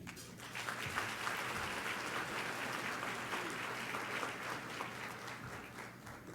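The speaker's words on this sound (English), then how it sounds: "Another applause for Apurva Gandhi." Lunchtime audience at an annual symposium applauds in a sustained wash of clapping from a large crowd, moderately distant and even, with no voices on top.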